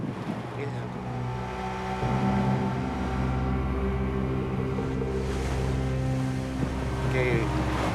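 Continuous low drone of an outboard engine on a motorized canoe pushing through fast river currents, steady and close with rushing water and wind over it.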